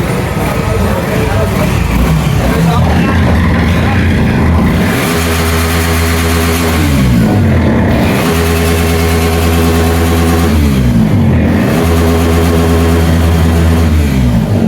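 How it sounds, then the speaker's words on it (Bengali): Suzuki 250cc motorcycle at a launch event, engine running loud and close with repeated revs rising and falling, several throttle blips over a steady idle, with crowd noise and voices around it. "আপনার বাইক স্টার্ট দিয়ে সাউন্ডটা শুনুক"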